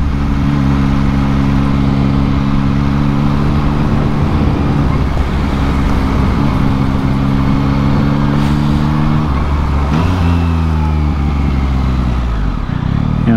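A 2022 Yamaha MT-09 motorcycle engine drones loud and steady with rising and falling revs and quick-shifter gear changes, under wind and road noise throughout.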